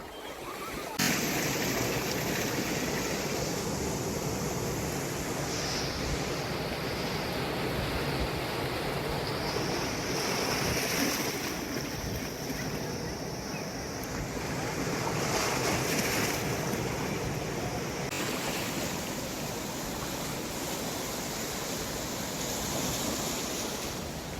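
Sea waves washing onto Kunkeshwar beach at Devgad, Sindhudurg, a steady broadband surf roar mixed with wind buffeting the microphone, continuous and fairly loud throughout with no talk.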